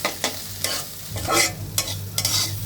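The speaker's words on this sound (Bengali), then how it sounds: "এখন ভালোভাবে চিংড়ি মাছ এর সঙ্গে সব কিছু ভালোভাবে ভেজে নেব।" Shrimp frying in a pan with salt, turmeric and other ingredients, sizzling loudly and close while a utensil stirs and scrapes in several distinct strokes.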